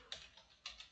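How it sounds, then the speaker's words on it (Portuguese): A computer keyboard sounds faintly as an address is typed into a web browser, with four quick key clicks over about a second and no voices. "vamos digitar aqui RA."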